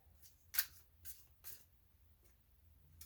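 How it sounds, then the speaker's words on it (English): Soft papery riffles and light slaps of tarot cards being shuffled, a few short bursts, close and quiet with no talking. "just going to give them one more shuffle"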